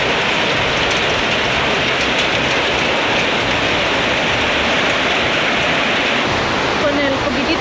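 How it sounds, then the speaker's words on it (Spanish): Heavy rain pours down in the Sumatra jungle near Bukit Lawang, a loud, dense, unbroken hiss of downpour filling the whole stretch. "aquí cuando llueve, llueve y con escándalo"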